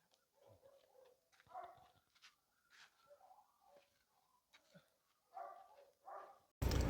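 Scattered dog barks and yelps at an animal shelter in Cihanbeyli, Turkey, faint and fairly distant, in short separate bursts with quiet gaps, ending in a loud rumble.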